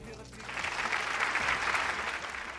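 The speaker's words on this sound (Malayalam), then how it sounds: "നല്ലൊരു കൈയടി" A studio audience at a Malayalam TV game show breaks into applause, a full burst of clapping that swells quickly and holds steadily loud to the end.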